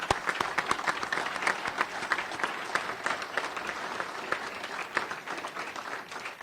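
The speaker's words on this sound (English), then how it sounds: "let's give them a round of applause" Audience applause at a press event introducing a college basketball coach, dense crowd clapping with sharp individual claps standing out, steady and sustained, gradually easing toward the end.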